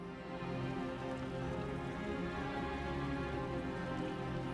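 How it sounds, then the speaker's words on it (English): Rain of blood falling in Diablo IV as a steady, faint hiss of rain with no clear breaks, heard alone without any voices. "And the rain of blood begins."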